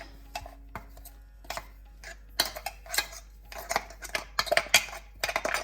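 A spatula scrapes the sides of a container of cashew mixture for kaju katli, with scattered clinks and scrapes that grow busier and louder toward the end, close and without talk.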